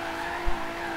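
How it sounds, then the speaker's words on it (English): Tires squeal steadily as a Quartz Regalia limousine drifts in the Forza Horizon 3 racing game, a sustained screech over engine drone with one brief low thump midway. "Limousine drifting"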